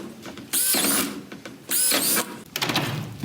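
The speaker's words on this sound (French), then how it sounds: "Il suffit de prendre la perceuse, de faire les trous." Power drill boring drainage holes into the base of a plant pot for growing tomatoes, two loud bursts of drilling with a shorter third burst, close up with no talk.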